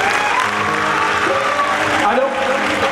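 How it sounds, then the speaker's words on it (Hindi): An audience at a devotional kirtan by a singer in Taraori applauds in a steady wash of clapping, with a voice and music underneath. "एक बार भाई के लिए जरा ताली बजाओ।"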